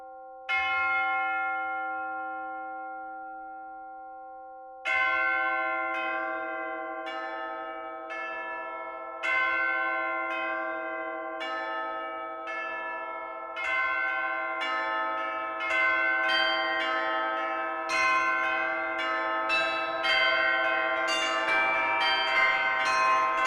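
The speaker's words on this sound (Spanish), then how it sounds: "El campanario. Tantas personas que lo ven por fotos, unas campanas muy grandes." Large cathedral bells ring in a bell tower, loud, sustained tolls that start alone, pause, then return in a quickening series of overlapping strikes whose long resonant hum hangs between hits.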